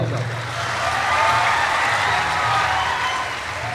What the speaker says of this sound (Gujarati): જોરદાર તાળીઓના ગડારથી વધાવો